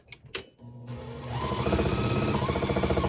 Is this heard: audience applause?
no